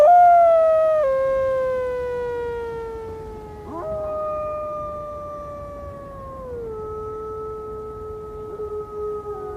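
A man imitates a wolf howl in snowy mountain wilderness and wild mountain wolves answer. A long, clear howl glides downward in stepped pitch drops and fades out alone, with no talk.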